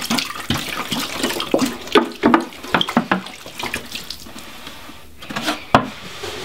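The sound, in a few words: pouring water into a 14-gallon Sterilite plastic tub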